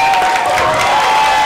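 Crowd applause and cheering at a street dance popping battle final, a dense steady wash of clapping filling the room, loud and continuous.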